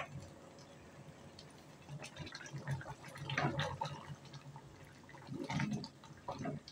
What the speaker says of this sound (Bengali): এখানে আমি 1 কাপের মতন সয়াবিন তেল দিয়ে দিয়েছি।